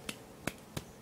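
Three crisp finger snaps, evenly spaced about a third of a second apart, sharp and close against a quiet background.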